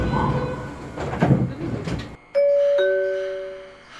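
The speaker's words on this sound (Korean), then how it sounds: "출입문 닫습니다." Door-closing chime on an Incheon Line 1 metro train, two clear bell-like tones ringing out and decaying after a stretch of rumbling carriage noise with a nearby voice.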